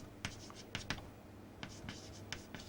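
A circuit equation is written on a board in quick, scratchy strokes, some sharp taps among them, coming in short bursts with brief pauses, faint and close.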